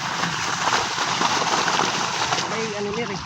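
Strong water rushes steadily in a broad, loud wash with splashing and sloshing, near and continuous, while a faint engine hum comes in toward the end.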